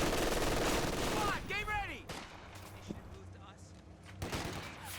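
Company of Heroes 2 combat: a rifle grenade and gunfire, with dense rattling shots up front, a whistling sweep, then scattered pops and a late burst under a soft battlefield din.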